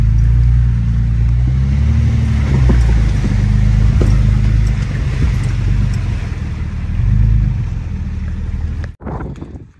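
Jeep Grand Cherokee WJ ploughing through a mud pit off-road, its engine a loud, steady low rumble with churning swells for about nine seconds before cutting off abruptly near the end.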